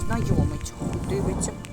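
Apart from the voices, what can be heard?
thunder during a downpour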